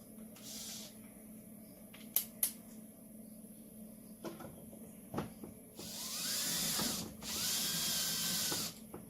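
A power drill drives screws into a mount for an off-grid solar system, two sustained whirring bursts near the end after a few scattered knocks and taps, close and fairly loud.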